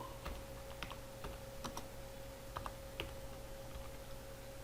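Soft, scattered key clicks as someone types on a computer keyboard while entering data into an Excel or Word ID card form, faint and close in a quiet room.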